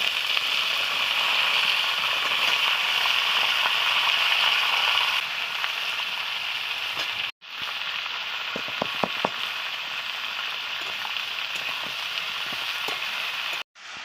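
Spices, chopped ginger and vegetables sizzle and fry steadily in hot oil for khichuri, a dense continuous crackle with a brief cut midway and a few soft utensil knocks.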